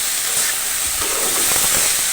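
Bitter gourd (karela) fry sizzles loudly in a pan as it is stirred, a constant steamy hiss with faint scraping taps from the spatula partway through.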